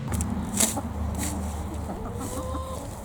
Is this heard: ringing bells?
no